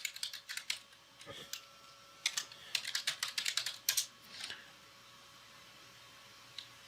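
A password entered on a computer keyboard: clicky, close keystrokes in uneven bursts, a few single taps, then a faster run of keys over a faint fan hum.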